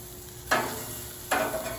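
Boneless chicken thighs on a grill give two short bursts of sizzling as they are flipped, each rising sharply then easing back into a steady low hiss, close and moderately loud.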